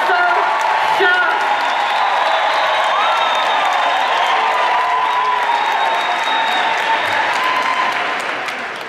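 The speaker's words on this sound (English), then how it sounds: "give me a big round of applause, loud noise, whistle, shout" A motivational-talk audience claps hard, whistling and shouting. The sustained, loud crowd roar carries whoops and whistle streaks and tapers off slightly at the end.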